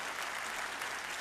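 An audience claps steadily at a live event, a dense even burst of many hands at moderate distance.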